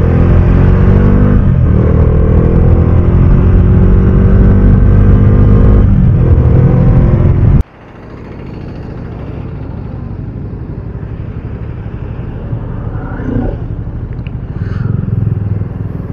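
Motorcycles riding on a road during a group Sunday ride, a loud continuous engine roar and wind rumble that drops abruptly midway to a softer steady drone with faint wind noise.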